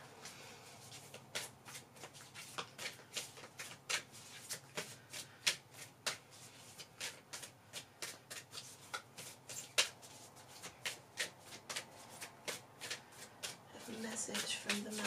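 A deck of Moonology oracle cards is shuffled by hand in steady repeated riffles and crisp flicks, close and clear, continuing for many seconds with a voice speaking faintly in places.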